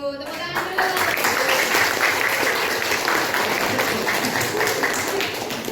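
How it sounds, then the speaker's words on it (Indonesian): Classroom of students applauding during a lesson, brisk clapping from a small group that starts abruptly and holds steady, with faint voices underneath. "Tepuk tangan dulu."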